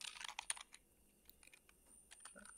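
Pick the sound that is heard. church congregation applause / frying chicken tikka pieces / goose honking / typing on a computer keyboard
typing on a computer keyboard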